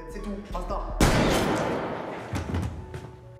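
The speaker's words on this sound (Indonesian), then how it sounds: "Suara tembakan pun terdengar." Gunshots fire in an action film scene about a motocross racer turned robber, a sharp loud blast erupting after a short stretch of music and voices, then a long noisy decay with further smaller bursts.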